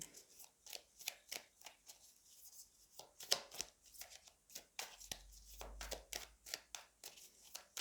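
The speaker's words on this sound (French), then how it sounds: "Je tire encore la troisième carte" A tarot deck is shuffled by hand and cards are drawn: quiet, close, rhythmic riffling and flicking of cards in quick repeated strokes, with a brief low rumble partway through.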